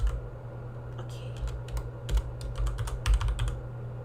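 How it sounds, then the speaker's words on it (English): Computer keyboard keys clatter in short irregular bursts over a steady low hum, with quick clusters of taps separated by brief pauses. "let me type that out right now"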